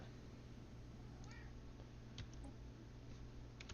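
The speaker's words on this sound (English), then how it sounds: "She's gonna meow back and forth with me." A house cat meows faintly once or twice against a quiet room hum with soft ticking clicks.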